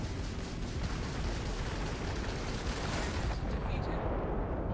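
A missile launching in the video game Starfield, a dense continuous roaring blast that stays loud throughout and trails off near the end.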